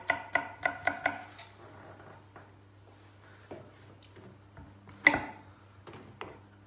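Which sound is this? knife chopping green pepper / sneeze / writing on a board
knife chopping green pepper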